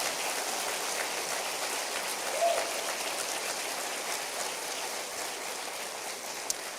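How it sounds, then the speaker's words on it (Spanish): A church congregation claps in steady, dense applause that fills the whole stretch at an even level, with no single claps standing out. "Dale otro aplauso al Señor."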